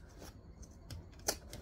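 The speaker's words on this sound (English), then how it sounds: "straight scissors would be fine here" Straight scissors snipping fabric seam allowance while sewing a travel bag: a few short, crisp snips close by, spaced irregularly with light rustle between.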